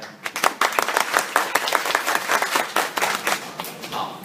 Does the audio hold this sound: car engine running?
no